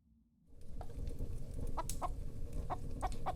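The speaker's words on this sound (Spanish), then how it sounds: "caminaba la gallina pintarazada" A speckled hen clucks in a kitchen, a series of short, evenly spaced clucks, close and clear over a low rumbling background, starting abruptly after a brief quiet moment.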